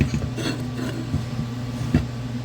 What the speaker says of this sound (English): I'm going to show you how well this machine pulses. So we're going to do real long pulse.